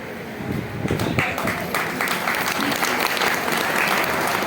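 Dense, steady applause from a large crowd at a speech, many hands clapping together without pause, loud and sustained throughout with a faint murmur underneath.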